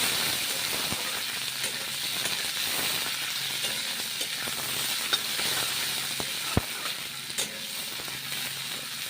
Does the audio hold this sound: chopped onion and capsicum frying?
yes